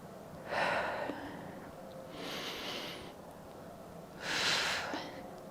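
Heavy breaths during a home bodyweight leg workout come as three distinct, close, airy exhalations spaced a couple of seconds apart, with faint background hum.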